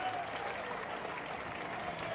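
Steady crowd applause at a street parade for baton twirlers and dancers, a brief, even wash of clapping from a spread-out audience with faint voices mixed in.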